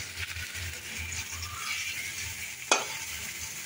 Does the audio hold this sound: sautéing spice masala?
yes